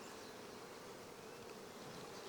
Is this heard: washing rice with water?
no